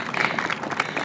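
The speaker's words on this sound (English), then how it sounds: "I like the cheers in addition to the applause." Crowd at a San Diego mayoral budget signing claps and cheers, a dense, steady wash of applause with a few brighter shouts on top, close and loud for about a second.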